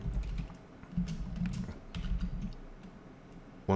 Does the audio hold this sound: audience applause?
no